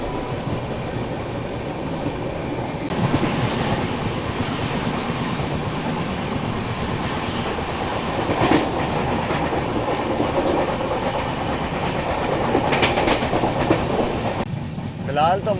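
Mumbai Duronto Express passenger train running on rails, a loud continuous rumble with rhythmic clickety-clack of wheels over rail joints throughout, heard from inside the moving train.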